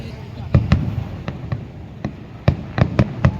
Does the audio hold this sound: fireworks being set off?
yes